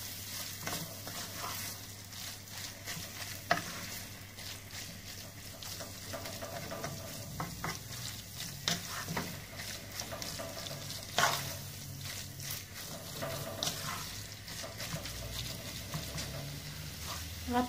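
Kefta meatballs and vegetables frying and sizzling in a pan, a steady close crackle with occasional stirring clatters and utensil knocks running throughout, no voices.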